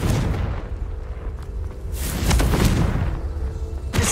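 A Confringo blasting curse in Hogwarts Legacy sets off several booming bursts over a rumbling background, with sharp cracks near the middle and at the end.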